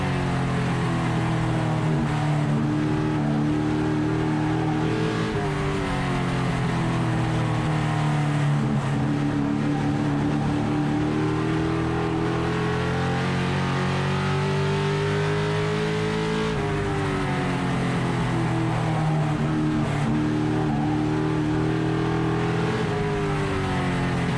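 Race cars in a pack battling for position at Stafford weekly racing, engines roaring loudly and continuously with rising and falling revs as they circle the oval.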